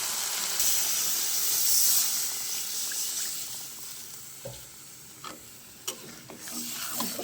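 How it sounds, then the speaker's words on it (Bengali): Water poured into a pan of sizzling paneer curry, giving a loud hiss and steam burst that fades into a softer bubbling sizzle with a few light clicks of utensils. "এই পর্যায়ে আমি ঝোলের জন্য জল দিয়ে দেবো"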